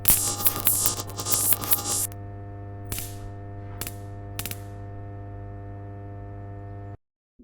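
Sockets sliding on an electrical panel in the video game Five Nights at Dolma's 5: a cluster of rattling mechanical clicks, then three separate short scraping slides over a steady electrical hum, ending in silence.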